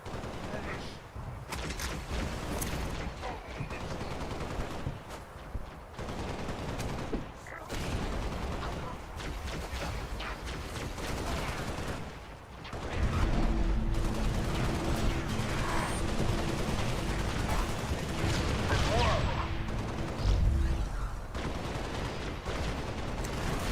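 Rapid bursts of gunfire from the Halo Spartan Assault video game, with repeated shots running loud and dense through the whole stretch, heavier and more continuous in the second half alongside steady game sounds.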